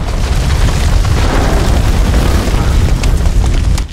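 A grenade goes off in the horror game House of Ashes with a loud, booming blast and a long, dense rumble of debris that fills the whole stretch, heard up close.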